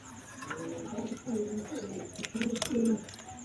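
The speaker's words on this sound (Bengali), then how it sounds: "একজোড়া রেসার কবুতর দেখতে পাচ্ছেন।" A pair of racer pigeons coo in soft, repeated low calls, with a few brief higher chirps mixed in, heard close under a faint background hiss.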